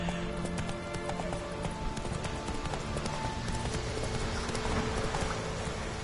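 Horse galloping in the video game The Witcher 3, a steady rapid clip-clop of hooves running continuously under game music and ambient sound, fairly loud throughout.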